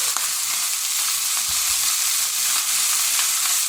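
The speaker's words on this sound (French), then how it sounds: "J'espère qu'on m'entend bien avec le bruit du crissement du beurre." Butter sizzles and crackles steadily in a pan as rabbit pieces brown for a hunter-style sauté, a close, dense frying hiss with a few light knocks of pieces being stirred.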